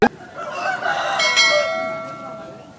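A peacock-coloured rooster weighing over four kilograms at a rooster market in Vijayawada crows once, loud and close, its long drawn-out call rising and then fading over a low murmur of background noise.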